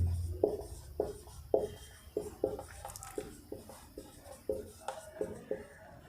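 Pen writing the number 75 by hand on paper, a series of short scratchy strokes in an uneven rhythm, close and fairly quiet.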